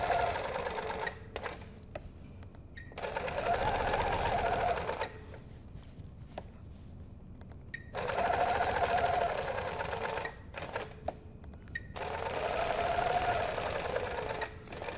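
Sewing machine quilting with a 360 Wonderfoot hopping foot: rapid, steady mechanical stitching in bursts of two to four seconds, separated by short pauses and quieter running.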